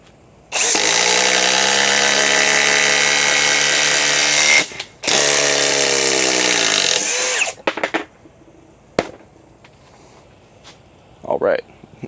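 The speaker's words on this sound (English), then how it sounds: "I am rather impressed with the Ridgid 4-mode impact driver" A Ridgid 4-mode impact driver sinks a 3/8 by 5 inch Spax screw, loud continuous hammering whine in two long bursts with a brief break, then short clunks and a voice speaking.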